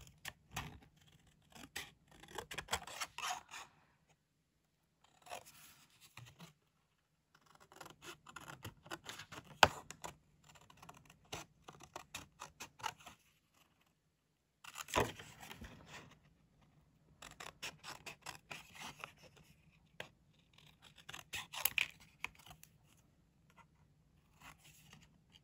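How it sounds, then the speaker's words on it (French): Scissors cut out a paper label for a craft project in close, quiet bursts of crisp snipping and rasping, separated by brief pauses, with no talking. "donc je vais découper l'étiquette"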